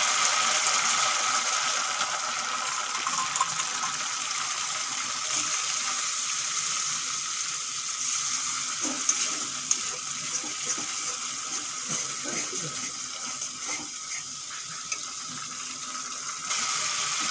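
Masala paste frying in a pan for a Bengali jackfruit curry, giving a steady close sizzle and crackle throughout, with occasional soft clinks and scraping of a utensil and no talking.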